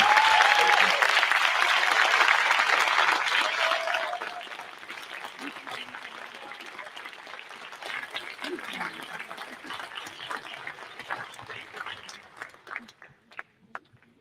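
Warm applause from a room of business program participants for their mentors, loud at first, then thinning to scattered claps with chatter underneath and a few last isolated claps near the end.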